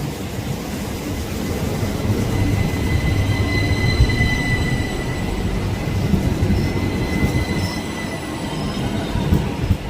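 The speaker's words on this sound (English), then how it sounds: "this is the tram train thing here, making its way back to Kur station" A tram-train rumbles steadily past nearby for the whole stretch, with faint high wheel squeals riding over the low roar.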